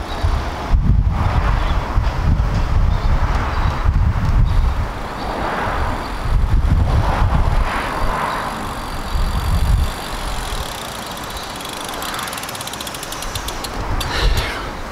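A bicycle rides on a tyre patched with a banknote boot and pumped to 40 PSI, with a rolling rumble, ratcheting freewheel clicks and heavy wind buffeting throughout.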